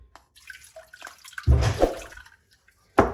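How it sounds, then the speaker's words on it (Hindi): Water poured over tamarind pulp in a bowl for chutney, giving a few small drips, then a loud splashing pour lasting under a second, and another short burst of splashing near the end, with no voices. "अभी यहाँ पे फिर मैं पानी थोड़ा सा डाल दूंगी।"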